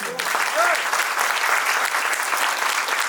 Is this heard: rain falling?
no